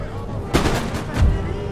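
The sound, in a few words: musket and artillery fire in the video game Empire: Total War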